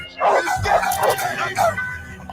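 A voice imitates a big dog's barking in a string of about four loud, rough woof-like bursts, close and spaced unevenly, with some shouting around them.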